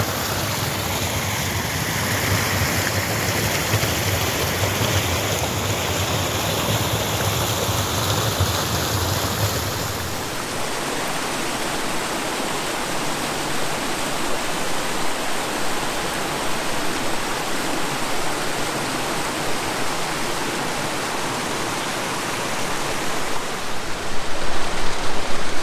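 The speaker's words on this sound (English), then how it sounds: "Nice little cascading stream." A small cascading stream pours over a little waterfall at the inlet to Fletcher Lake in the High Sierra near Vogelsang, a steady, loud broadband rush of water that continues without a break.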